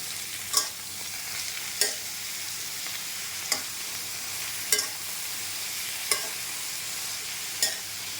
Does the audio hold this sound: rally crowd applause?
no